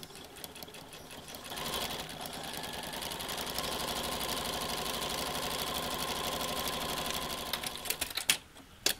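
A sewing machine stitching down the back seam of a pair of shorts runs steadily for several seconds, a continuous close whirring that stops briefly near the end with a few clicks.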